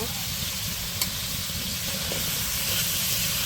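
Potatoes and taro dropped into hot oil with spices in a Bangladeshi village kitchen, giving a steady, loud, continuous sizzle and hiss throughout, with a faint clink near the start.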